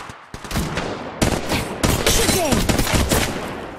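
Gunfire in Apex Legends Mobile rattles in loud, close bursts of rapid shots, several overlapping volleys with short gaps, a battle against another squad, with no speech.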